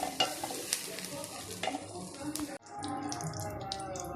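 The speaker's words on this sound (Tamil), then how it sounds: "அதே வானலில் வெண்டைக்காவை வணக்கிக்கிறோம்." Okra sautéing in oil in a pan, busy close sizzling with repeated stirring scrapes and clatter, then a brief cut to a calmer, steadier fry.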